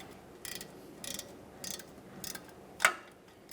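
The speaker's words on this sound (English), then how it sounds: "Use a nice short ratchet for this." Four short bursts of ratcheting clicks come from a small, short ratchet snugging a tiny parking brake shoe bolt on a 1999–2006 Chevrolet Silverado 1500, close and quiet, followed by one sharper metallic click.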